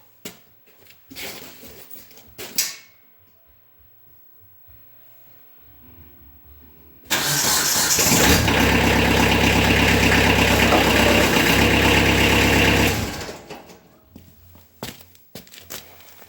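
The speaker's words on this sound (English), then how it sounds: "Now I'll start the engine up and lift the blower up." A Kubota B3000 compact tractor with a blower attachment has its engine cranked and started, then runs at a loud, steady idle for several seconds before shutting off, with scattered clunks and footsteps before and after.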